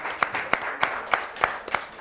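Audience applause for the winners of a children's spelling competition: a small group claps in a steady, even rhythm of sharp, separate claps, close and moderately loud.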